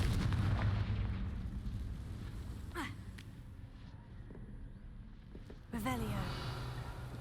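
The Confringo blasting spell goes off in Hogwarts Legacy, a booming blast followed by a second sharp explosive burst with rumbling decay, under a cast spoken aloud and low game ambience.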